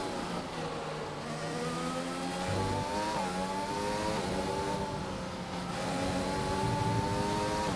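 Formula 1 car engine in the F1 2020 video game at the Australian Grand Prix, the car running a slightly damaged front wing; a loud, continuous high-pitched engine whine with harmonics rising and falling through gear changes, with no talking.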